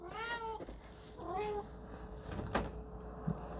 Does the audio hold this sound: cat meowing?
yes